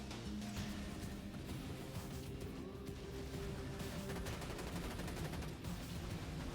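A rapid-firing Plasma Caster in Borderlands 2 chatters out a continuous stream of shots over vehicle engine noise, fairly faint and steady throughout.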